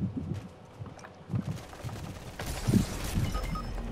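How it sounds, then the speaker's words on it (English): Sniper rifle shots in a Fortnite match, several sharp reports scattered among a noisy busy soundscape, with one louder crack standing out near the end. "Got him with a sniper."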